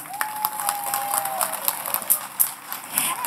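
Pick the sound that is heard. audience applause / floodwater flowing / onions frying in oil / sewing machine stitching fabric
audience applause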